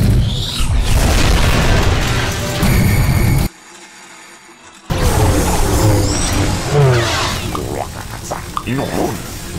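Bombs detonating in an animated Star Wars: The Clone Wars battle at a Geonosian weapons factory, with loud booming blasts and mechanical clatter, a brief near-silent gap, then more rumbling explosions and effects.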